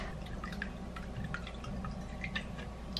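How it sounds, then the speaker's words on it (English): Olive oil and vinegar dribble into a Ziploc bag with soft, close drips and trickling splashes, quiet and continuous with no talking. "Then you're gonna pour it into your Ziploc."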